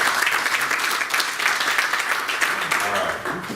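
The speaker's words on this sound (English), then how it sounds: "Let's give him a big warm applause." A business presentation audience welcomes a speaker with dense, sustained applause, many hands clapping together at an even, fairly loud level for several seconds with no talking.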